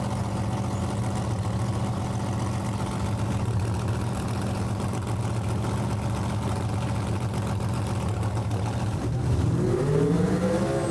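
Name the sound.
race car doing a burnout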